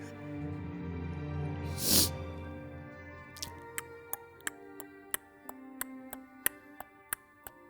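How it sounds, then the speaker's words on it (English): A clock ticks in a steady, even rhythm after a soft swell of ambient music and a bright chime, each tick sharp and distinct against a quiet musical pad. "You hear a clock ticking,"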